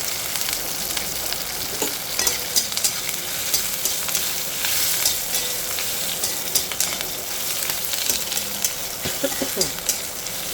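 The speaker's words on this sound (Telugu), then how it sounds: "చూస్తారు కదా, పోపు వేగిపోతుంది." Loud, continuous sizzling of green chillies, dried red chillies and curry leaves frying in hot oil as a tempering, with occasional crackles and pops throughout.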